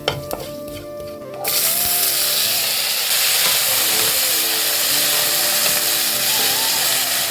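Whole five-spice seeds hit hot oil for tempering during samosa-filling preparation, bursting into a loud, steady sizzle after a brief quieter start, holding a constant crackling hiss to the end.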